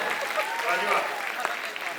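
Audience applause at a stand-up comedy show, a broad steady patter of clapping hands sustained over two seconds with a faint crowd murmur mixed in.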